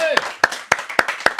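Sharp claps ring out in a steady rhythm from an audience at a French live festival event, about five even beats close together with no talk over them.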